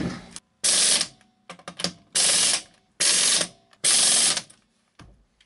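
Bursts of ratchet clicking on a 2003 Honda Civic as the rear wheel and tire go back on after a strut replacement, four loud runs separated by brief pauses, close by with no talking.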